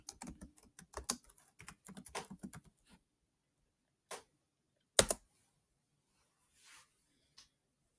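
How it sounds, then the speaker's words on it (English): Quick, rhythmic keystrokes on a Chromebook keyboard as a search is typed, a dense burst of close clicks for about three seconds followed by a few isolated taps and one sharp louder key press. "And so I just typed it in and I searched for it"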